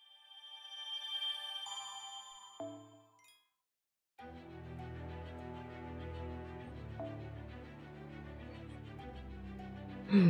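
A mobile phone ringtone plays as a bright, chiming melody that stops briefly, then returns as a fuller, sustained musical passage with steady loudness and a sharp burst at the very end.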